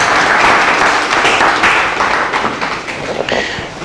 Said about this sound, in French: Applaudissez, monsieur le professeur.